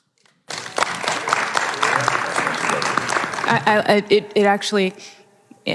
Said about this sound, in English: I felt something when we were clapping for you